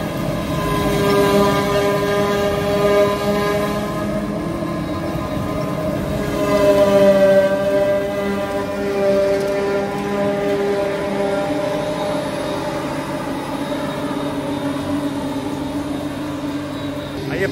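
A forage harvester works in a field, its steady heavy droning hum and mechanical whine continuing throughout at a constant, fairly close level.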